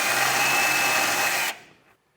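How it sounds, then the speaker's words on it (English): A die grinder fitted with a burr bit grinds steadily to widen a hole for a Class III trailer hitch on a 2016 Ford Escape, a loud continuous high whine that cuts off after about a second and a half and spins down. "So I'm just going to use a burr bit and get this grinded out just enough for this to fit."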